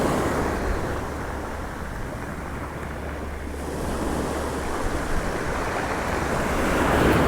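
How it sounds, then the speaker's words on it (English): Sea waves breaking on an empty East Coast UK beach, a continuous hiss and roll of surf that swells and recedes, mixed with wind buffeting the microphone, with no voices. "just me and the sea sounds"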